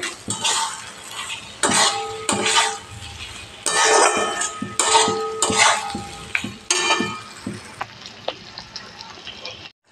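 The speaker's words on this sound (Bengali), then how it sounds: "ডিম দিয়ে আমি আবারও নাড়াচাড়া করে নিলাম" Fried eggs stirred into a curry gravy with torn green chillies in a pan, giving scraping spoon strokes and clinks against metal over a steady sizzle, close and moderately loud.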